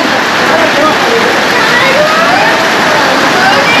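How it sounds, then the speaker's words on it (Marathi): Heavy rain pours down in a dense, loud, unbroken hiss close by, with a voice talking faintly beneath it. "पाऊस चालू झालेला आहे जोरदार."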